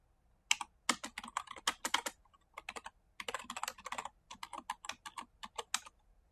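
Java code is typed on a computer keyboard in quick bursts of close, crisp key clicks, with short pauses between runs of keystrokes and no talking.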